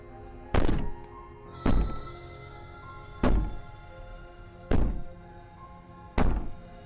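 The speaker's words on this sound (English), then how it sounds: "Bang on the door all you want." Five heavy, booming knocks on a door in the video game Slay the Princess, spaced roughly a second or more apart, each a loud low thud with a short ringing tail, over a faint ambient hum and no talk.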